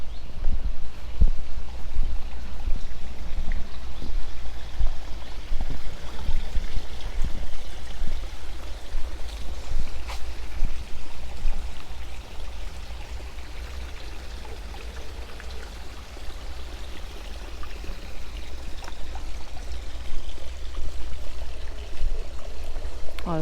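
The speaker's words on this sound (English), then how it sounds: "There's a small river." A small river in a Japanese garden flows with a steady, broad rushing murmur that continues throughout without a break, with no voices.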